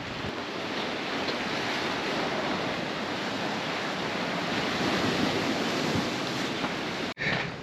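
Sea waves wash onto the shore in a continuous broad roar mixed with wind buffeting the microphone, steady throughout with a brief dropout near the end.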